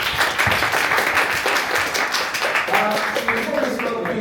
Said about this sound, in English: a round of applause for the panelists